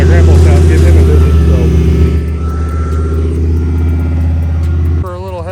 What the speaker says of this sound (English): Busted a stub shaft, so three-wheeling it up out of this little ravine.